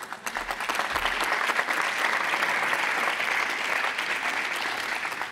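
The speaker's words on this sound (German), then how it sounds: "Applaus" Applause fills a parliament chamber, starting with scattered claps that quickly swell into steady, sustained clapping from many members.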